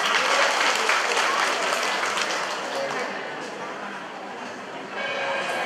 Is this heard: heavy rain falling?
no